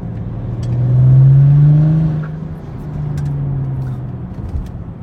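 A BMW 335d, a diesel tuned to about 400 hp, revs up nearby with a smooth rising engine drone that peaks and then eases off into a steadier hum.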